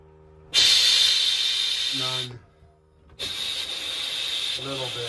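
Compressed air from a compressor blasts through RV water lines during winterizing, a loud sharp hiss that bursts on, cuts out briefly with a low sputter, then rushes again; a voice is briefly heard.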